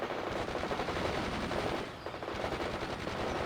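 Sustained machine gun fire rattles in the video game World in Conflict, a dense, loud burst of rapid shots that dips briefly and then resumes without a break.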